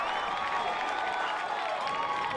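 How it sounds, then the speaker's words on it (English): Sand Springs fans at a regional high school baseball game applaud after a double play, a steady, moderately distant wash of clapping and crowd noise, with faint commentary beneath. "Big applause by the Sand Springs faithful."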